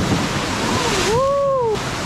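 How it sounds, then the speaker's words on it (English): Large waves crash and roar in a tropical storm at sea off Indonesia, a loud continuous surge close by with wind buffeting, while a voice gives a brief rising-falling shout near the end. "So the weather just got worse. The waves are getting huge."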